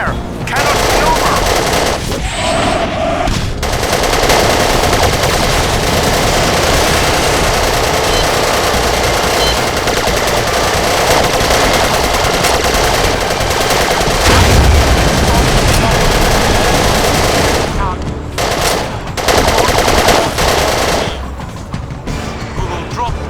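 Enemy gunfire in the game Battlefield 2: Modern Combat: loud, sustained machine-gun bursts and booms pound almost without pause, with brief voice radio callouts in the gaps.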